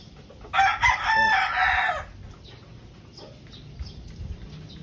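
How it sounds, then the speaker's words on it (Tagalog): A pure white Kelso brood stag rooster with a straight comb, white pit and high station crows once, loud and close, in a single sustained call, followed by quiet. "Brood stag number 2, pure white kelso."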